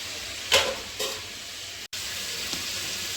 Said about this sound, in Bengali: তার জন্য আমি ঝিঙেটা আর আলুটা আজকে ভেজে রেখে দিচ্ছি